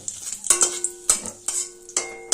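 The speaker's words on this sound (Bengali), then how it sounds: "এবার ফোড়নটা ভেজে নেব" Cumin, a whole dried red chili and a torn bay leaf fry in hot oil in a pan for a tempering. A utensil stirs with sharp metallic clinks and scrapes at irregular intervals over a faint sizzle.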